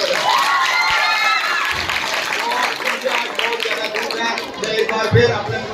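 A crowd at a school quiz competition applauds and cheers, loud at first and thinning into chatter, with voices heard over the clapping.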